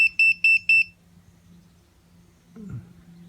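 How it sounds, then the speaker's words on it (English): Four quick high-pitched electronic beeps in a steady rhythm from a BMW E46 330Ci Clubsport with a possible battery drain, followed by quiet background hum and a brief low rustle. "I don't know why it's beeping"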